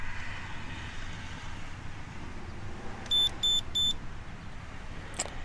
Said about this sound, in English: You get that beep beep beep.